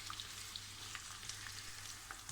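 Onions frying in hot oil toward a light golden colour for Uzbek-style Afghan rice, with a quiet, steady sizzle and a few soft crackles throughout.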